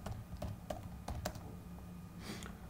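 Computer keyboard typing: a run of crisp, separate key clicks at an uneven pace, close and alone, with a brief softer flurry near the end.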